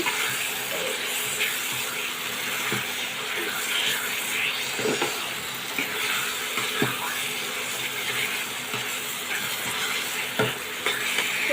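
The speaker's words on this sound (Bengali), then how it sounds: "শাকটাকে দিয়ে চিংড়ি মাছটার সাথে সুন্দর করে মিশিয়ে নেব" Greens get stirred into cooked prawns in a pan, a constant frying hiss with occasional spoon knocks and scrapes against the metal, close and steady, nobody talking.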